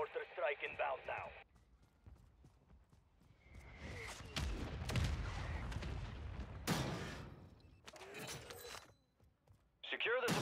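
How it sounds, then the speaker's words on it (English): Mortar strike explosions in Call of Duty: Warzone 2 land as a run of rumbling blasts and crackling bursts over several seconds, with radio voices talking before and after. "Mortar strike inbound now."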